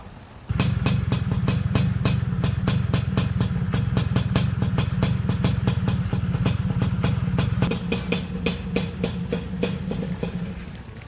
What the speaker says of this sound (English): So this is a motorbike ferry, just about to jump on, first for me.